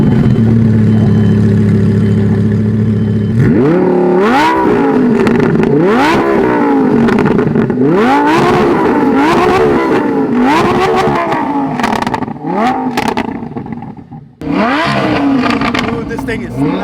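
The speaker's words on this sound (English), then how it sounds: "It's got a Rift aftermarket exhaust." A Lamborghini fitted with a Rift aftermarket exhaust idles loudly, then revs hard in a series of rising and falling blasts, one after another, with people talking close by over the engine.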